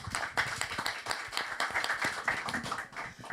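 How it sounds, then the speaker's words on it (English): An audience claps for the speakers at the World Woman Davos Agenda event, a dense, steady patter of applause from a seated crowd that continues evenly throughout. "So a round of applause."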